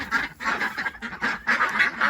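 Ducks in a straw-bedded tunnel shelter, kept with geese, let out a rapid run of loud, close quacks in quick overlapping bursts.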